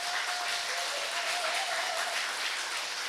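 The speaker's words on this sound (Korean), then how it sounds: "우리 박수 한번 보내주세요." A church congregation at a Sunday worship service claps together, a steady, uniform patter of applause that stays level throughout with no speech.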